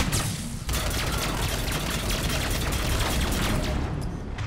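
Dense gunfire and grenade blasts from the video game Mass Effect 3, a loud continuous battle of rapid shots and booms that stays steady throughout.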